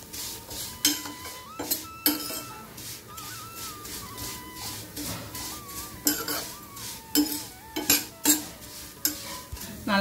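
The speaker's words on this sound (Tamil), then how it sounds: "இதில் இந்த சேமியா கொட்டி நல்லா இதிலே ரோஸ்ட் பண்ணிடலாம்." Vermicelli roasting in a pan for semiya kesari, stirred with a metal spoon that scrapes and clinks against the pan in a quick, repeated rhythm over a faint sizzle, no speech.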